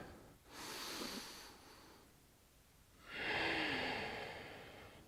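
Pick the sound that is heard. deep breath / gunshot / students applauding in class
deep breath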